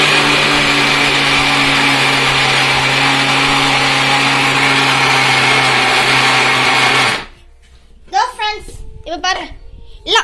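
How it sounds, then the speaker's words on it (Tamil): A mixer grinder loudly whirring as it grinds sesame ball ingredients, steady and close for about seven seconds before stopping abruptly, followed by someone talking. "அதுக்கப்புறம் இந்த கலக்கட்டல் போட்டு இப்போ ஒரு முறை அரைங்க"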